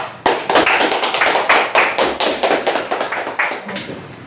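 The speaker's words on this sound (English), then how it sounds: "clap hand for Hak" A classroom of English trainees at a seafarers' training centre clapping hands for a fellow student, a dense burst of many overlapping claps, close and loud, lasting a few seconds before tapering off.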